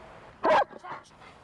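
A stray dog gives a single loud, close bark, followed by a couple of softer yips or whimpers.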